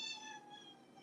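A pet cat named Orchid gives one drawn-out meow, close to the microphone and fairly soft, its tone trailing off into quiet with no talking over it.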